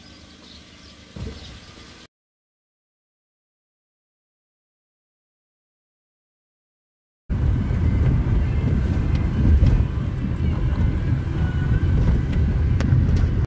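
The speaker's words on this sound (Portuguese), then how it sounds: "agora que chegou o ônibus" A long-distance coach pulls into a Brazilian bus station, its deep engine rumble rising loud and steady after a stretch of silence.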